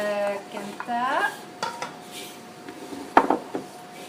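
A spoon scrapes and clanks against a cooking pot while something is stirred, with close metallic rings and scrapes over a low sizzle.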